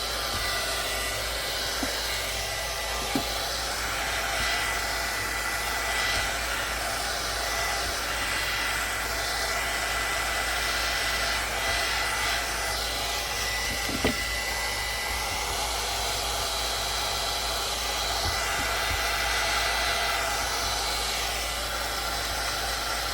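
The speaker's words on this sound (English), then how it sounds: "let me use my heat tool real quick" A crafting heat tool blows hot air in a steady, close, continuous whooshing roar while paper pocket envelopes are made, with a few faint clicks and no speech.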